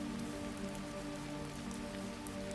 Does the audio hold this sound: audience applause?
no